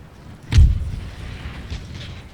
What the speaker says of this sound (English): These mortars are proving invaluable.